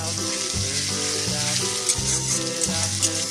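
Chicken fries in a pan while being stirred, giving a close, steady sizzle that continues without a break.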